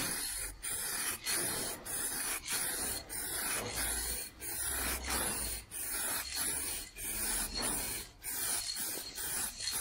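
A rattle can sprays a final coat of paint onto a car panel in a rhythmic series of close hissing bursts, about two each second, with brief gaps between the strokes.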